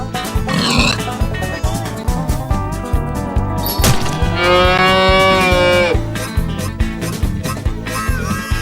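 Cow mooing in the Run Cow Run video game, loud and drawn out over busy, dense game music and effects, with no talking.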